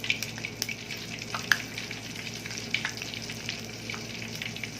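Breaded eggplant slices frying in a pan of hot oil, giving a steady quiet crackle with scattered sharper pops and spits, no voices present.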